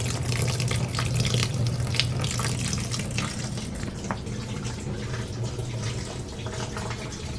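Coolant pouring out of an old high-mileage BMW, a continuous close gushing and splashing of liquid with a few small clinks.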